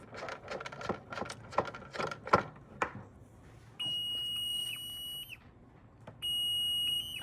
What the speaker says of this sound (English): So it's every box downstream of this one goes into alarm.